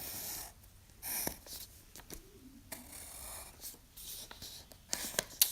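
A pen scratches jagged lines onto paper up close, quiet uneven strokes and scribbles with short pauses between them, and no talking.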